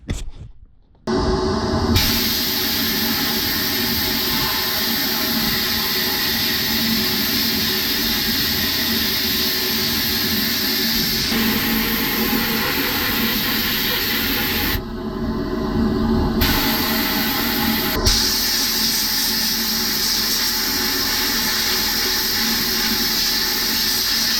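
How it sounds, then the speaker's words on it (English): Abrasive blasting of a Honda CRX exhaust manifold and downpipe makes a loud, steady rushing hiss that runs almost without a break, with a short dip partway through. "I'm going to do the exhaust housing, the actual manifold, downpipe, dump tube, and we're just going to blast everything"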